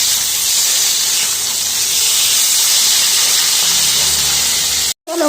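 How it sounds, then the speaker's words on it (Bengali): Pieces of rohu fish frying in hot oil with salt and turmeric, a loud continuous sizzling hiss that holds steady, then cuts out abruptly near the end. "চলো মাছগুলো সব ভেজে নিই"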